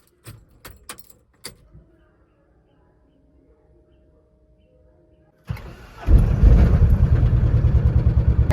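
A vehicle being started and taken out: a few key jingles and clicks, a quiet pause, then the engine cranks and catches into a loud, steady, throbbing idle close by.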